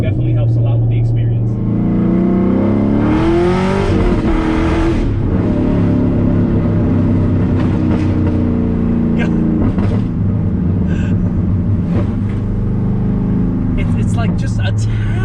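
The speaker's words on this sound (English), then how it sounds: "the nice exhaust feedback definitely helps a lot with the experience" Fifth-generation Chevrolet Camaro SS exhaust rumbling steadily from inside the car while driving, rising and dropping in pitch through gear shifts, with a louder rev burst early on and talk running over it throughout.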